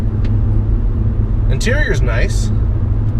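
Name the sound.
Audi A4 1.8T driving at about 100 km/h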